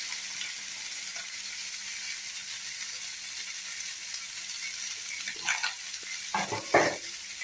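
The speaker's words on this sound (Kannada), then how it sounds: "ಚೆನ್ನಾಗಿ ಮಿಕ್ಸ್ ಮಾಡಿ ಎಲ್ಲ." Black chana being stirred with garam masala in a pan, a quiet scraping and faint sizzle with a few louder spoon scrapes near the end, no talking.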